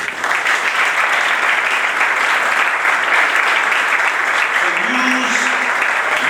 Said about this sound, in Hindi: यीशु के लिए तालियां